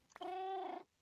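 A single clear, close cat meow from Minecraft, a drawn-out tonal call lasting over half a second after a brief click, alone against near silence.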